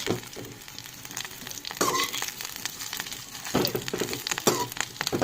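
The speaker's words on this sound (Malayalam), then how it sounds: "ഇതിലോട്ട് നമ്മുടെ എഗ്ഗ് 65 നമ്മൾ നേരത്തെ വറുത്ത് കോരിയും കൂടി ആഡ് ചെയ്തിട്ട് നമുക്കൊന്ന് മിക്സ് ചെയ്തിട്ട് എടുക്കാം." Egg 65 is fried and stirred in a pan, with steady sizzling and the scrape and clatter of a spoon stirring, all close and alone without talk.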